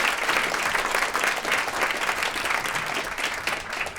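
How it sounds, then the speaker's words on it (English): An audience at a live Christmas concert in a radio studio performance space applauds: steady, dense clapping from a small crowd, moderately loud and sustained throughout with no talking. "Give them another round of applause."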